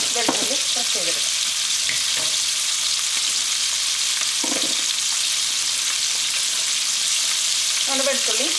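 Crushed garlic frying in a pan for a fish pickle, a loud steady sizzle with occasional stirring scrapes and clinks, no voices.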